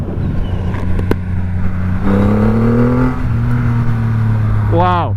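The 2500cc engine of a Triumph Rocket 3 motorcycle rises in pitch, drops at a gear change and climbs again, a steady loud drone heard from the rider's position.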